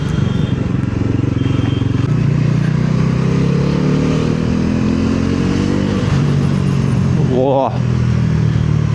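A Royal Enfield Bullet motorcycle cruising in third gear, its loud, close thumping engine drone holding steady, then briefly dipping and rising near the end, while someone speaks over it.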